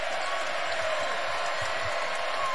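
Crowd at a Kentucky versus Texas A&M college basketball game cheering and applauding, a loud continuous roar with clapping filling the arena at a steady level.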